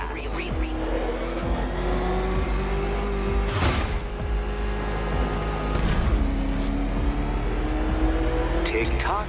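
Batmobile from the game Batman: Arkham Knight, its engine revving hard and driving fast, with rising and falling whines, tyre squeals and swooshing passes, mixed with game effects and voices.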